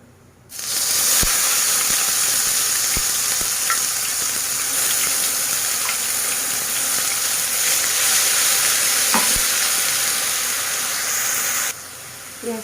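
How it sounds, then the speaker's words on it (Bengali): Chopped onion with a bay leaf fries in hot oil in a pan, giving a continuous loud sizzle with occasional sharp clicks from stirring, steady for over ten seconds before easing at the end. "পেঁয়াজটা ভাজা ভাজা হয়ে এসছে।"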